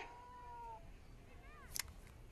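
Cat meowing, a quiet drawn-out meow followed by a shorter rising one, faint and fairly close, with brief clicks near the end.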